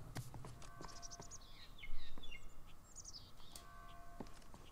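Bird chirps in the video game Escape Dead Island, faint high tweeting calls scattered over background ambience, with soft clicks and a brief louder swell midway.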